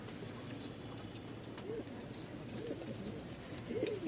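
Giribaz pigeons, Tiger Giribaz and red beauty birds kept as breeding stock, coo in a few low rolling calls near the end of a steady, noisy background hum.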